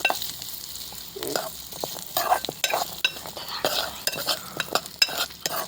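Ingredients stirred and roasted in a frying pan, with a utensil scraping in steady, irregular strokes over a continuous sizzle; close and moderately loud with no talking.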